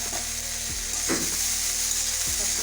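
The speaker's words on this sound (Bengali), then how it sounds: "কাঁচা লঙ্কা কুচি সবই দিয়ে দেবো একসঙ্গে ভেজে নেবো কারি পাতা সবগুলো" Chopped green chillies, onion and curry leaves fry in a pan for a semolina breakfast snack, giving a steady close sizzle with a few soft stirring scrapes over a low humming background.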